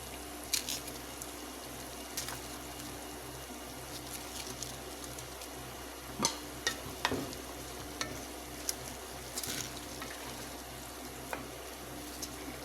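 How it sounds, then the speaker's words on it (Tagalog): Cabbage going into a boiling pan with leftover chicken, a low bubbling simmer with soft sizzle and scattered stirring clinks and splashes, quiet and close with no talk. "Wow, kumukulo na siya. Lagay na natin yung repolyo."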